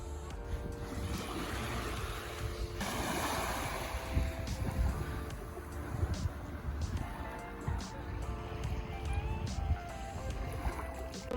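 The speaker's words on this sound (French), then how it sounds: "vous entendez les vagues? C'est tellement apaisant." Ocean waves wash onto the shore in a continuous broad rush with wind buffeting the microphone, a swell building around the middle, heard close and fairly loud without talk.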